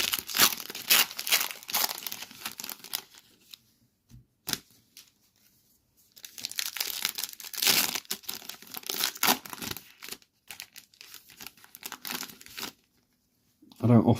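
Trading card packs from a blaster box are torn open and crinkled, with loud bursts of foil wrapper rustling and tearing close by, separated by quieter gaps.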